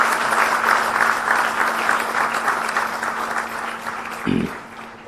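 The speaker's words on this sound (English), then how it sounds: "I suggest a big round of applause for the DDKF." A crowd at an award ceremony applauds the DDKF with steady, continuous clapping that holds at full strength and then gradually thins, joined by a brief low thump near the end.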